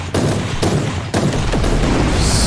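Heavy gunshots from Warhammer 40,000: Inquisitor, three loud close blasts in a row over a dense rumbling combat bed.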